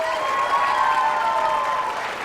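Steady applause from a community event audience honoring a third grade writing award recipient, a dense even wash of clapping lasting throughout at close range, with a faint tonal hum underneath.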